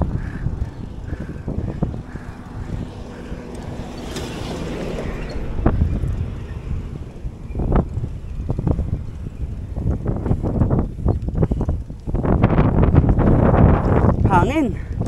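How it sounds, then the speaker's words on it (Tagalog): Strong wind roars and buffets the microphone during a long fixed-gear bike ride from Alabang to Batangas, a steady loud rush that swells and gusts in bursts toward the end. "Ang hangin."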